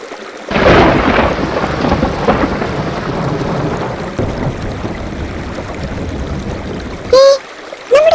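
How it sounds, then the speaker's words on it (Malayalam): Rain falls in an animated cartoon as a loud, steady hiss with a rumbling low end that runs for several seconds, then cuts off abruptly into a few short tonal effects. "മഴ പെയ്തല്ലോ, ഇനി എന്ത് ചെയ്യും?"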